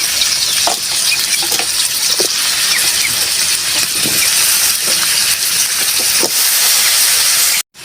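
Garlic and onion sauté in a pan with a loud, hissing, steamy sizzle and occasional stirring knocks, continuous and close before cutting off abruptly at the end.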